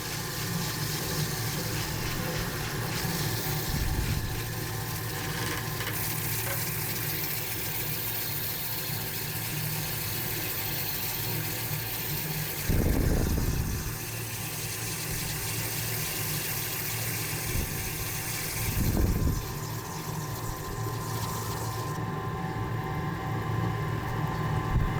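A steady, wet, grinding drone comes from an agate polishing machine scratching against the stone. Two short, louder surges rise out of the continuous noise.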